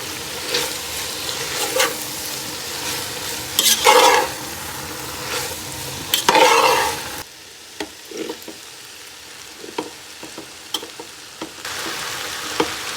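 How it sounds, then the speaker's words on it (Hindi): Macaroni with masala is stirred and fried in a pan, with loud bursts of sizzling and scraping spatula strokes at first, then quieter intermittent stirring clicks over a softer background. "थोड़ी थोड़ी डाल के फिर साथ साथ मिक्स करते रहेंगे। इस तरह हमारा मसाला अच्छे तरीके से सारी मैक्रोनीज़ पे लग जाएगा।"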